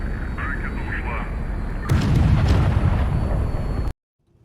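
Missiles launch and burst in the naval combat game HighFleet, a sharp crackling impact near the two-second mark giving way to dense rumbling explosions that stop abruptly, over a steady electronic background.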